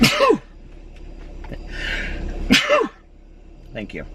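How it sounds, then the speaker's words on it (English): A single loud, close sneeze bursts out at the start, and a second sneeze follows a couple of seconds later. A brief spoken phrase comes in between. "Do you guys say bless you or gesundheit when I sneeze?"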